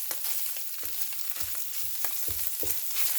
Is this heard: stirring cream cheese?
yes